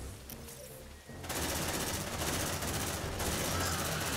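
Suppressive gunfire in a shooter video game breaks out after a quiet second and becomes a loud, continuous rattle of rapid automatic shots that runs to the end.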